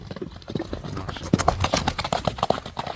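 A black horse with a white blaze trots along a road. Its hooves strike in a quick, even clip-clop rhythm that is close and fairly loud.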